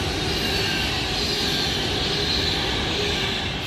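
A Class 390 Pendolino passes through Milton Keynes Central on the West Coast Main Line, giving a steady, loud, broadband rush of rolling noise with no break across the few seconds.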